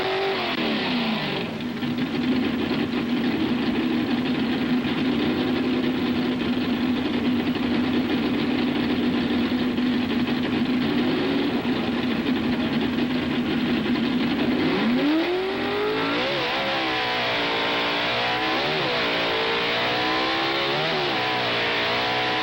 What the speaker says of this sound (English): The tire will grip after 2 burnouts.